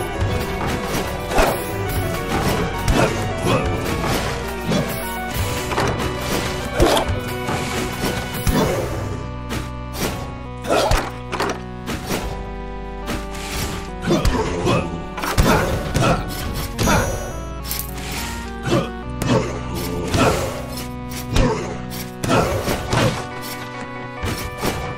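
Repeated crashes and thuds from smashing objects in the video game Rogue Legacy, loud and steady over game music, with frequent sharp hits throughout.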